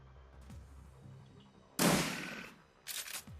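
Gunfire in the Shadowrun Returns video game: one loud, noisy blast that trails off, then a shorter, quieter burst, over a low background hum.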